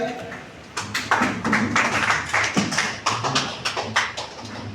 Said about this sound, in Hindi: मैं चाहूँगा कि राम मिलन सर के स्वागत के लिए एक बार खड़े हो जाएं और जोरदार क्लैपिंग करें